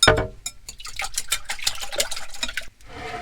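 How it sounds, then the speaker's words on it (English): Six eggs with salt and pepper being whisked in a bowl at a truck campsite, giving a quick, steady run of clicking and sloshing strokes close by, with no talking. "Now we're gonna whisk this up really good."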